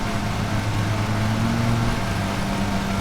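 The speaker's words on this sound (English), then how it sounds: "Engine's getting overloaded here, like a lot." A lawn mower engine labors hard while cutting tall, wet, overgrown grass in a yard, a loud, steady drone close by whose pitch sags and wavers under the heavy load, with no talking.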